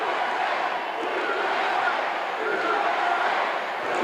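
A wrestling arena crowd at a Dusty Rhodes versus Ivan Koloff casket match roars in a steady, loud mass of voices with a rising chant swelling through it, no single speaker standing out.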